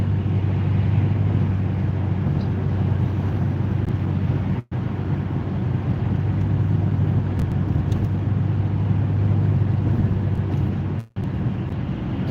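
Steady road and engine drone inside a car cruising at about 60 behind an Escalade, a constant loud rumble with wind noise and two brief dropouts.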